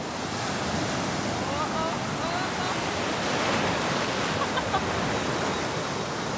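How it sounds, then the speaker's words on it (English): Rough surf breaking on a sunny beach at Trincomalee, Sri Lanka, a steady broadband wash of waves with wind noise on the microphone, continuous and fairly close, with no talk. "But you can see it's pretty rough, but it's a beautiful beach. The seas are rough in Sri Lanka."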